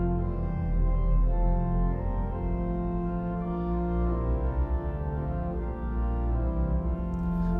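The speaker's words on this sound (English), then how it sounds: "With the 8-foot, it sounds like this." Spitzprinzipal sounding together with an 8-foot stop on a 1906 Felgemacher pipe organ, a full, loud sustained chord with moving inner notes and deep bass, no voices over it.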